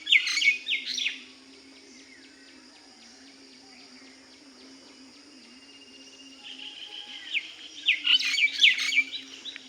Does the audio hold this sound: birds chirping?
yes